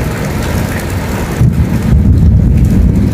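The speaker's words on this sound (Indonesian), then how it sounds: "Itu suara petir atau guntur yang menggelegar" Low rumbling thunder rolling in over steady rain, loud and close, swelling in the second half of a short burst with no talking.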